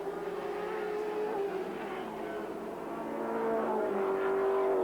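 A 1983 turbocharged 1.8-litre four-cylinder touring race car at full throttle at Sandown, its engine a loud continuous buzzing drone with shifting pitch as it works through corners, alone without voices.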